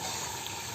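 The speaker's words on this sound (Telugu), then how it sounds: "కొంచెం వాటర్ అయితే పోసుకుందాం" Water pours steadily into a cooking pan for a brief, continuous moment, an even rushing splash with no talk.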